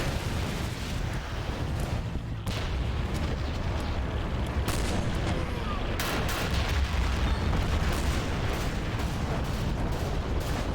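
Dragon tanks firing flames in the real-time strategy game Command and Conquer: Generals, a dense continuous roar of battle with booms and bursts of gunfire layered over one another, loud and unbroken throughout.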